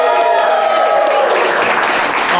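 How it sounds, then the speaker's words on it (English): A live studio audience applauds in a dense, steady wash of clapping that stays loud throughout, with no distinct voices standing out. "Let's hear that round of applause again"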